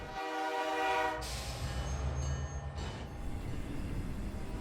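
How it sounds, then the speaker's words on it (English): A freight train rolls across a bridge on the Rio Grande at the Mexican border, its horn sounding a sustained harmonic blast early on before giving way to a low rumbling of cars and wheels, moderately distant. "Trains and trucks traverse back and forth over the many bridges into Mexico."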